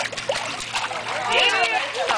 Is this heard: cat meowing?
no